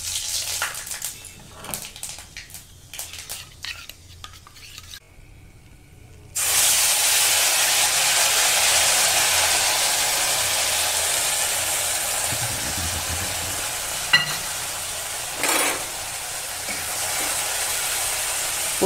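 Hot oil left over from frying fish sizzles loudly and steadily as five-spice seeds go in, a sudden burst of bright hissing that holds on for many seconds after some quieter handling sounds.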